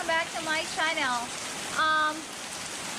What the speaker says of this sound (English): It's a super cold and rainy Saturday here in Bukid.